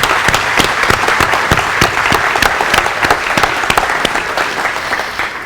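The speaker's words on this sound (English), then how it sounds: "I would like everybody to give them a round of applause." A church congregation at a Sunday service gives a round of applause for subcontractors; dense, steady clapping fills the whole stretch, loud and sustained, with no talk on top.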